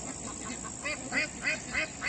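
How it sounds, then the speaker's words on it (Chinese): A flock of ducks by the water gives repeated quacks, four fairly regular bursts about a third of a second apart, moderately near over a steady outdoor background hiss. "你看那边还有一群鸭子，然后你要是一撵它，它就自己下水了哈。"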